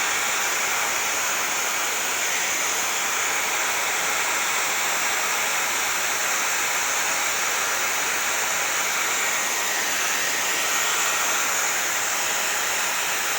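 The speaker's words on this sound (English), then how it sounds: "So I'm going to show you guys drying it, going in with the diffuser." A handheld hair dryer fitted with a diffuser blows steadily and loudly throughout, a continuous broadband rush of air with no pauses while hair is dried.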